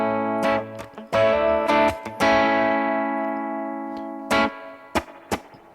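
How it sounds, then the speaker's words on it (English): Electric guitar run through a Tone King Imperial amp-style pedal with built-in reverb: several picked chords and single notes ring out clearly, each decaying into a reverb tail, with gaps between phrases and no talking. "obviously it has its own reverb on there"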